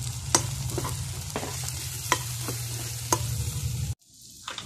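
Coriander and turmeric powder sauté in a hot pan. A soft, steady sizzle is broken by several sharp spatula scrapes and taps, then cuts off abruptly near the end, leaving a couple of faint clinks.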